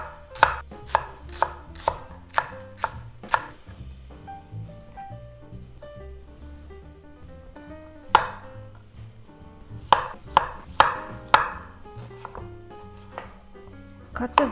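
A knife thinly slices a green onion stalk on a cutting board in quick bursts of crisp, close chopping strokes, pausing briefly before another run of rapid cuts.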